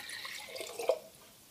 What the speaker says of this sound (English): Let's add into it 1 cup of water.